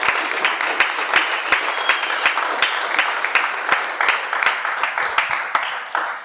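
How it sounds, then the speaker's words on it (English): Applause from a small audience at a business talk, close crisp claps with distinct individual hand strikes punctuating a steady clapping bed before it tapers off. "Go ahead and give them a round of applause."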